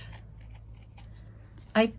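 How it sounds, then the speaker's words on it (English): Scissors snip once near the end, cutting around the edge of a tart tin finish on a cross-stitch ornament, a short crisp close cut after a quiet stretch with faint background hum. "I kind of hold my scissors at a slight angle so that I can get right on that edge."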